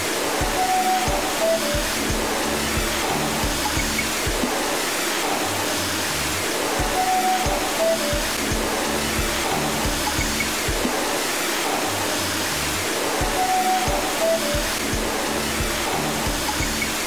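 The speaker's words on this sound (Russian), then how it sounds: "машину вымыли чистой водой" Steady rushing water sprays continuously while a cartoon police car is rinsed clean after soaping, a broad hiss with faint repeating musical tones underneath.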